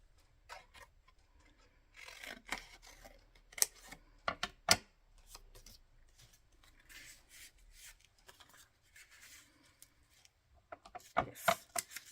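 Scissors snip through paper from a recycled journal at a desk, giving soft scattered cuts and rustles with a few sharp clicks, fairly faint and close, with a quiet room behind.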